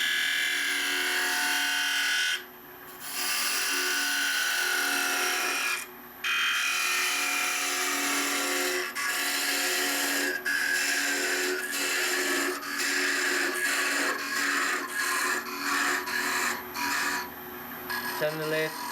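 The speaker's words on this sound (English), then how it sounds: "Turn the lathe speed down just a touch so you can control parting this off" Wood lathe spinning while a lidded box with brass inlay is parted off, a steady mid-pitched whir with scraping tool contact and brief dips where the cut pauses, continuous and fairly close.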